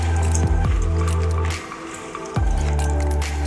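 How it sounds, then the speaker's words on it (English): Thick tigernut granola mixture being stirred with carob or cocoa powder, wet squishing and sticky dripping sounds in a few uneven strokes close by, with no voices. "Just mix together until everything is incorporated together."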